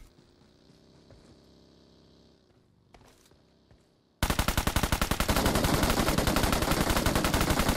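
A quiet stretch abruptly gives way to loud, rapid automatic gunfire in PUBG Mobile, with dense, evenly spaced shots hammering continuously for several seconds.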